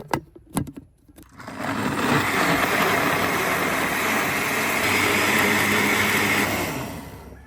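A blender makes a steady, loud motorized whir for several seconds while blending a seafood dipping sauce, after a few brief knocks at the start, then cuts off near the end.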